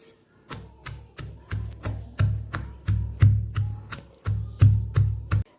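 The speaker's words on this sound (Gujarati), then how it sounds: "હવે આપણે આ ચટણીને સરસ ખાંડી લેવાની છે." Garlic chutney with salt, cumin and red chili powder pounded by hand, a steady series of about a dozen heavy thuds spaced roughly half a second apart, close and loud with no talking.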